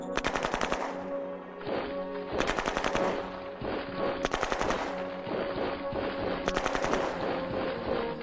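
Machine gun fire in the strategy video game Shadow Empire, rapid automatic bursts repeating in four long loud volleys with brief gaps, punchy and close, no talking.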